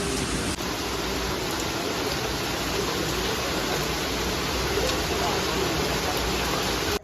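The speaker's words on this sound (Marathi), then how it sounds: "पाऊस बघा केवढा आहे" Heavy rain pours down in a dense, constant hiss, close and steady for about seven seconds with no break.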